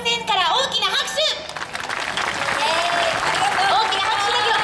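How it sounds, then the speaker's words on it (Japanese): A crowd breaks into loud, sustained applause that fills the room, with a voice talking over the start before the clapping takes over. "大きな拍手だけ送ってください"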